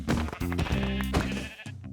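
A sheep bleating in a video game, a loud, close, wavering bleat that repeats several times in quick succession with no talking over it.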